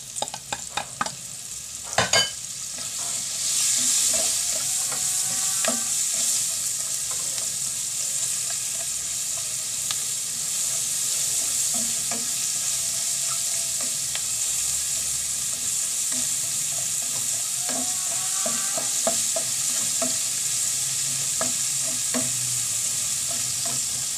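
Sliced onions frying in hot oil in a pan while a Filipino bangus (milkfish) dish is cooked. A steady close sizzle runs throughout, broken by repeated scraping and clinking stirs of a utensil against the pan.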